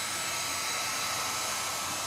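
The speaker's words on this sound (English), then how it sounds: "called a hair dryer." A hair dryer blows steadily at close range, drying freshly painted game lines on a crokinole board, a constant loud whooshing hum with no talking.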